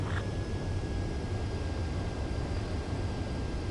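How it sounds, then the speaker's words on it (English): Steady jet engine roar from a fighter on final approach to a runway in Ace Combat, a continuous broadband rumble with a faint high whine, holding at even loudness throughout. "Runway is clear. Mage 2, you are cleared for landing."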